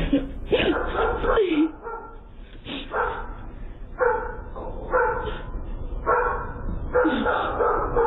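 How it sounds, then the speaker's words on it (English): A dog barks in repeated short bursts at a distance, picked up by a doorbell camera, with whimpering yips between them and a person talking over it. "I hear a dog."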